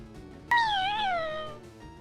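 A heavy adult cat, around 30 pounds, gives a single drawn-out meow that rises and then slowly falls, heard clearly over a steady low background hum.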